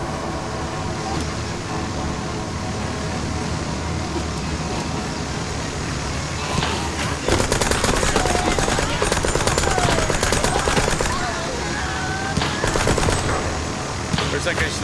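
Rapid automatic gunfire in the video game Mouse: P.I. For Hire, a dense, loud, continuous rattle of shots over steady game background noise, growing heavier and more sustained midway through.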